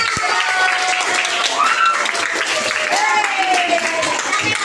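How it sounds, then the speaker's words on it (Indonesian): Classroom of primary school pupils at SDN Sindangsari 1 clapping together at the end of a lesson, a steady wash of handclaps throughout with children's voices chattering over it. "Tepuk tangan untuk kita semua."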